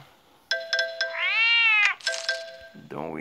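A cartoon cat in The Simpsons: Tapped Out mobile game lets out a loud, drawn-out meow among chiming game sound effects, followed by a short yowl at the end.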